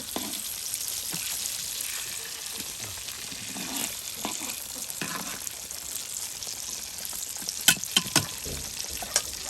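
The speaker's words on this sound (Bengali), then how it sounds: "দেখুন কত সুন্দর মাছ ভাজা করে নেওয়া হচ্ছে" Continuous crackling sizzle of tilapia fish frying in hot oil, with occasional sharper pops and spatters, close by and steady throughout.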